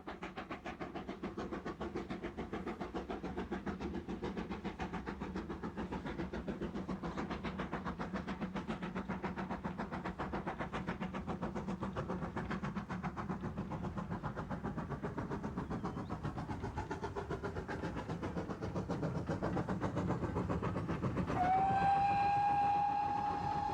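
A GWR steam locomotive runs on the Gloucester and Warwickshire Railway with a continuous rumbling train roll and rhythmic wheel clatter, and a clear whistle sounds near the end.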